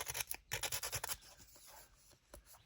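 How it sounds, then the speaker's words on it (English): A handheld sander runs along a folded sheet of paper in a junk-journal folio, making a quick series of close, rhythmic rubbing strokes that then fade to quieter scraping. "go along it with the sander"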